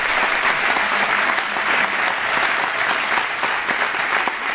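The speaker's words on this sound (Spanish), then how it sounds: "pedirles a todos, pues, un aplauso en homenaje, un cariño por esta labor que ellos desempeñan" An audience at the Centro Aragonés in Puerto de Sagunto, Valencia claps in homage, a dense, sustained round of applause that stays loud and even throughout with no speech over it.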